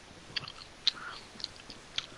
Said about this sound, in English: That is the sound of me eating a sub.